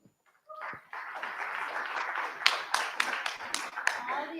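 An audience at a talk on migration and Afghan refugees claps in applause, a steady spatter of hands rising after a brief pause and holding fairly close and loud.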